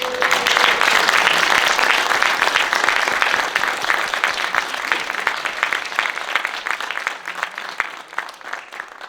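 Sustained crowd applause, loud and dense from the start, with scattered individual claps standing out as it gradually tapers off.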